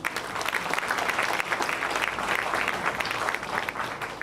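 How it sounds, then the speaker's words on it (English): Crowd at a welcome and thanksgiving ceremony breaking into sustained, energetic applause, many hands clapping densely and evenly throughout. "Please give a huge round of applause."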